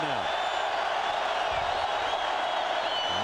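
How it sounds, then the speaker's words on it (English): Deafening hometown crowd at a 2000 college football game, Oklahoma against Nebraska, roaring as a dense, steady wash of noise with no breaks throughout. "Crouch trying to be heard over the deafening noise of the hometown crowd now."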